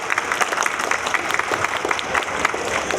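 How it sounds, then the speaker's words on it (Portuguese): Audience applause welcoming a speaker to a legislative panel, dense continuous clapping close and fairly loud throughout, with no voices over it. "Receba com uma salva de palmas a doutora Juliana Arini"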